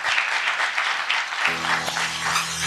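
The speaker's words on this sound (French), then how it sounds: "Merci de les applaudir." Audience applause at a conference on 21st-century management, a broad steady wash of clapping from a seated crowd that continues throughout, with a low hum appearing partway through.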